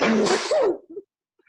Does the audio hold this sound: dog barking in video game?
no